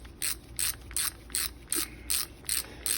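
A ratchet tightens bolts on a Yamaha Warrior ATV being rebuilt, eight evenly spaced bursts of rapid clicking strokes, close and clear with no talk.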